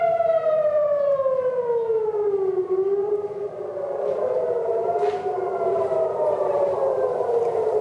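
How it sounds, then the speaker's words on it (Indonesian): Air raid siren in Israel warning of incoming Iranian missiles wails loudly and continuously, its tone sliding down then slowly rising again, a single sustained rise-and-fall cycle carrying over faint background noise. "Sirine tanda serangan rudal Iran memasuki wilayah Israel kembali berbunyi"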